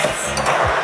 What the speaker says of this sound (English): Add ice.